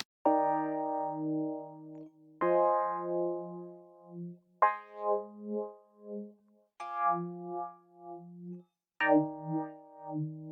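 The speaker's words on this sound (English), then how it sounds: "we're going to be modulating the filter frequency with the LFO here." Five sustained synth notes in a slow sequence, each with a rich harmonic tone whose brightness swells and dips in a gentle rhythmic wobble from an LFO modulating the filter.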